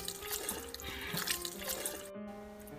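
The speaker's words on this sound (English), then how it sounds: "You pour enough cold water to cover all the grape leaves" Cold tap water runs steadily into a pot of rolled grape leaves, a continuous close splashing and gurgling stream that briefly cuts out near the end.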